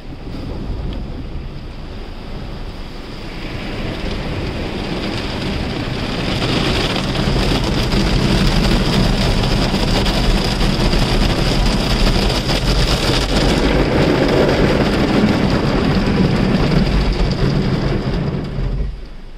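An automatic car wash in America sprays and scrubs a car, heard from inside as a loud, sustained rush of water and brushes that swells halfway through and stays dense, with no talking.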